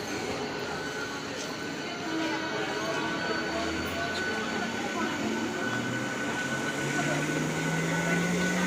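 A train passes through an empty station platform, its continuous rumble and hiss filling the scene while a rising engine or motor tone climbs toward the end.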